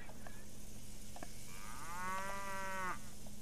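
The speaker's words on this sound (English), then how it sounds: "I hear cows" A single cow gives one drawn-out moo in the video game Railway Empire 2, swelling in the middle and then cutting off, set over a low steady game ambience with faint clicks.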